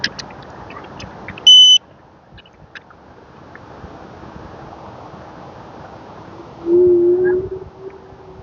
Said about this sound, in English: That beeping gets annoying